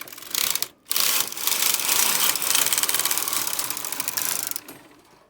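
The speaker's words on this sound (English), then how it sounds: "I'm going to knit a row." A Brother KH-270 Electroknit chunky knitting machine carriage sweeps across a full row with a loud, continuous mechanical clatter and rapid rattling, broken by a brief pause near the start, then fading at the end.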